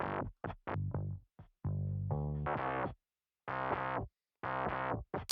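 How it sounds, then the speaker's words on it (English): A heavily distorted bass amp track from an indie emo song, tightly noise-gated, plays alone in loud harmonic bursts cut to silence between notes, buzzing and gritty with effects. "it's gating it pretty tightly because this is going to make a lot of noise because we're adding tons of distortion"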